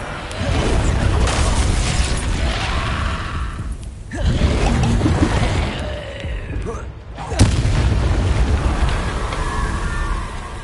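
Incendio fire spells cast in Hogwarts Legacy make three loud, roaring whooshes of flame in close succession, each a dense burst lasting a few seconds, with brief dips between them and a voice now and then.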